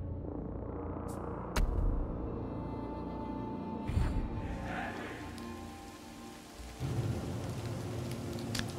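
Steady rain patters in a strategy video game thunderstorm, with thunder claps breaking through near the start, middle and end, loud and continuous without any talk.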